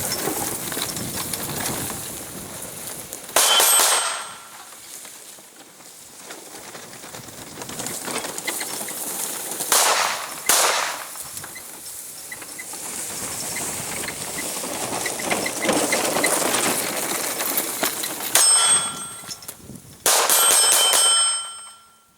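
Handgun shots fired from a golf cart at close-range angled steel targets, several sharp bursts with bright metallic ringing pings spread across the stretch, loud and close between quieter gaps.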